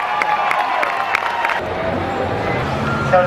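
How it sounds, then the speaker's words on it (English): Crowd at a rough truck event in Tuscarawas County cheers and claps for driver Cody Taylor, a steady roar of voices and clapping that sounds fairly near and fills the whole stretch. Talk carries over the top. "Big round of applause for Cody Taylor."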